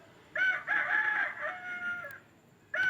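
A rooster crowing from a Chicco talking toy farm house, one long electronic cock-a-doodle-doo with a short second crow starting at the end, clear and alone.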